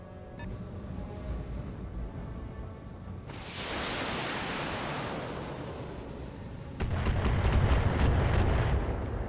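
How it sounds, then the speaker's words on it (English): Long-range missiles firing in the mech game Battletech, a roaring rushing barrage that swells in two stages, dense and loud, with a rumbling low end and no talk over it. "Those long-range missiles are bullshit."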